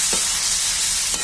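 Pork fries in a pan with curry leaves as it is stirred, a loud, bright, continuous sizzle up close, with two soft scraping strokes of the stirring utensil near the start and end.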